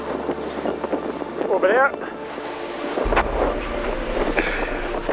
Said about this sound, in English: We've now got the full whack of the wind.